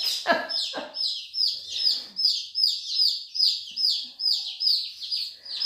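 Chickens, including Jersey Giants, give a steady run of high, rhythmic chirps, roughly two per second, close and clear, opened by a couple of lower clucks; no one speaks.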